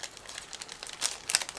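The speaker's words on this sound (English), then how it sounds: "I'm cutting through the plastic bag," Soft crinkling and crackling of a plastic bag being cut open, with brief louder bursts near the end.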